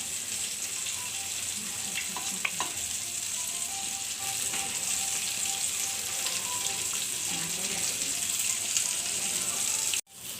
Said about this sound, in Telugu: చూడండి పులుసు మరుగుతుంది కదా ఇప్పుడు ముక్కలో వేసుకుందాం